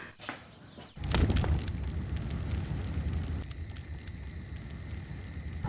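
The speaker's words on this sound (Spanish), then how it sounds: "Buena fogata, buena nada más." A campfire outdoors burns with a steady low roar and crackle, close to the microphone, following a sharp knock at the start, with no talk.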